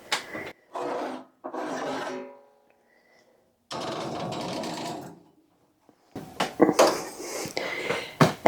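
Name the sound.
washing dishes in the kitchen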